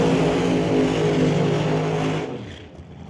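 Drag race car at an NHRA Northwest National Open event, a loud close engine roar during a burnout that holds for about two seconds then cuts off abruptly, leaving a quieter rumble.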